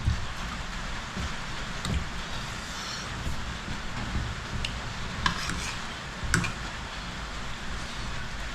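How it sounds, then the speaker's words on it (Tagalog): Rain falls steadily outside, a constant close hiss with occasional louder drips and taps on a surface, and no talking. "So patuloy po yung pagpatak ng ulan."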